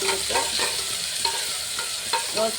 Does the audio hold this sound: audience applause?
no